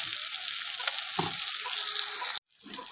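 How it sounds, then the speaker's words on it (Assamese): Steady, loud sizzling of eel fish frying in a pan with cumin, with a brief stir near the middle and a sudden cut to quieter sizzle near the end. "কুচিয়া মাছখিনি ভাজি লৈছোঁ।"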